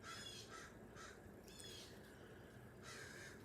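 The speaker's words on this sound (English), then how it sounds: "see the blue jays, and there's a crow out there" A crow caws outside in a yard, giving a series of harsh, spaced calls at a distance, faint over steady background hiss.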